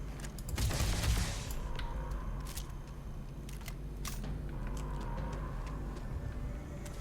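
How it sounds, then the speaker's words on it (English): Gunfire in the Starfield video game comes as a close burst of sharp shots near the start, followed by a few scattered cracks over a low, steady background rumble. "So we just have to keep shooting him."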